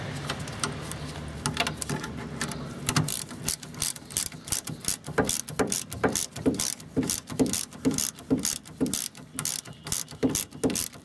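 A ratchet spanner clicks rapidly in repeated bursts while tightening a nyloc nut on a VW T25 steering rack, close and crisp, with brief pauses between strokes.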